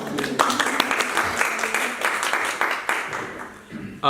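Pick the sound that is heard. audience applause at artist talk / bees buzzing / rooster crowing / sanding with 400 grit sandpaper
audience applause at artist talk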